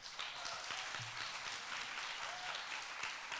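An audience at a gala bursts into broad, dense applause, a continuous wash of many hands clapping that holds steady throughout.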